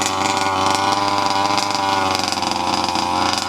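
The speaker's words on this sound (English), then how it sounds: "Puts the brake on but doesn't kill the engine." A large petrol-powered RC car bought as a budget import runs its small two-stroke engine steadily with the brake applied, a continuous buzzing drone close by with no pauses.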